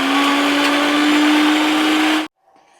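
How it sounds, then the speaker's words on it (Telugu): A kitchen mixer grinder grinds a dry powder, a loud steady motor whine with a constant pitched hum that runs continuously, then cuts off abruptly, leaving faint room noise. "ఇంకొకసారి మిక్సీ చేద్దాం"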